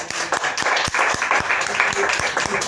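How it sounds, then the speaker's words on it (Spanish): A church congregation claps together at a worship service, a dense, steady wash of hands with sharp individual claps falling in a loose regular rhythm, close and full throughout. "Dale un aplauso al Señor."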